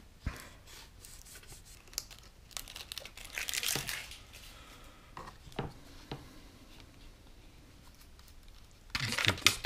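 Masking tape is handled on a 1/537 scale USS Reliant model starship. Close crinkling, tearing and small tapping sounds come in uneven bursts, quiet in places, with a louder rustle near the end.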